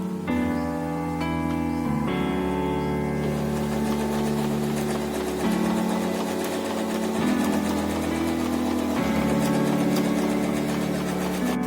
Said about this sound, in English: I'll apply a stitch on top of this